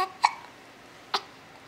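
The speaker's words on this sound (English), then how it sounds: "Those hiccups bothering you?" A six-week-old baby hiccups twice, about a second apart: short, sharp, close squeaks over a quiet room with no talking.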